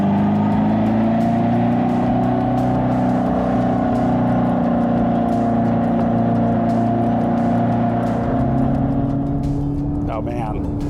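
A Dodge Charger Daytona EV Scat Pack launching in drag mode, giving a loud steady whir and road roar that builds under continuous acceleration while someone talks over it.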